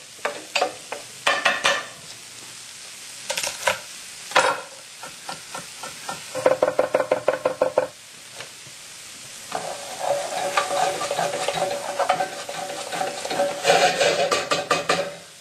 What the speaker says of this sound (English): So to add flavor back to them, you need to saute them until they're golden.